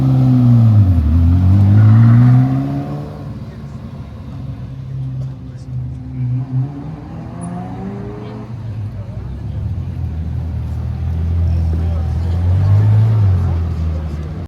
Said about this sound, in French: Regardez, du coup là, elle s'en va. Une McLaren derrière,